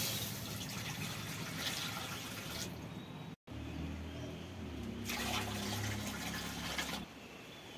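Water pours from a glass into a kadai on a mud stove, a steady splashing trickle in two spells with a short break between them, heard near and alone.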